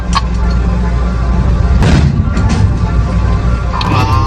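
A naval gun fires aboard a Dutch-built frigate in 1970, a single heavy boom near the two-second mark standing out over constant low ship rumble and wind, followed by a few fainter thuds.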